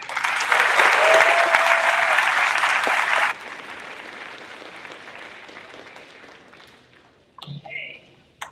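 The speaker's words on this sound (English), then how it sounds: "Let's receive her with a round of applause." Loud applause from an audience at a Black History Month church event fills the first three seconds, then drops to scattered fading claps, followed by a brief knock or shuffle near the end.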